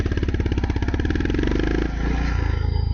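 A Honda CB350RS motorcycle pulls away in first gear, its engine note rising steadily in a loud, close, pulsing drone with no one speaking over it.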